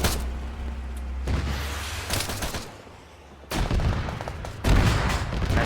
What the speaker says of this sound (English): Missile was just launched, she's down.